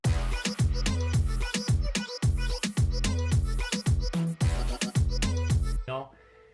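A dense Moombahton groove pumps with heavy, steady kicks, pitched vocal chops, brass stabs and a white-noise wash, playing loud and continuous before cutting off abruptly near the end.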